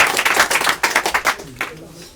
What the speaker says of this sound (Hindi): एक बार जोरदार ताली से स्वागत किया जाए।